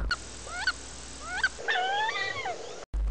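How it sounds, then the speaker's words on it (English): Wood duck calling with a series of rising squealing whistles, two single notes followed by a longer wavering run, clear and close with no other sounds. "wood duck"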